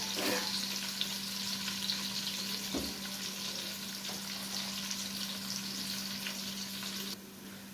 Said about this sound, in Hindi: अब हम इसमें प्याज ऐड कर देंगे। प्याज को अच्छे से ब्राउन कर लेंगे।